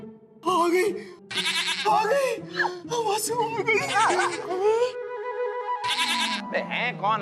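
A goat bleats repeatedly on the set of a Hindi comedy TV series, its wavering cries mixed with lively voices and laughter.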